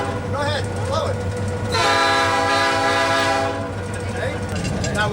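A train horn is sounded by the driver from inside the cab, one long sustained blast heard close and loud over the low rumble of the locomotive, with brief voices before and after.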